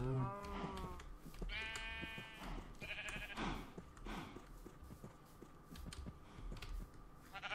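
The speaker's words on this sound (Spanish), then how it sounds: "¿Dónde están las ovejas estas, tío?" Several sheep bleat in the Minecraft video game, overlapping blocky cries over a busy, cluttered in-game background, fairly close and moderately loud with no talking.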